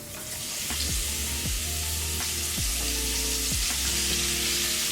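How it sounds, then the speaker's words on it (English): Steak searing in a pot for carne en su jugo, a loud steady sizzle and crackle of frying meat with a few scraping stirs, close up and without talk. "We're gonna put our steak into the pot"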